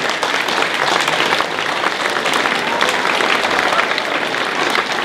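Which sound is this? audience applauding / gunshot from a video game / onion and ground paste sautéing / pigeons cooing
audience applauding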